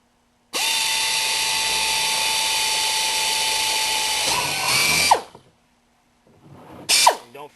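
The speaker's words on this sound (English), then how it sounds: "Then you're going to take your 1/4-inch drill," A quarter-inch power drill drilling holes whines steadily at high speed for several seconds, bogs as it bites through, stops, then gives a short second burst.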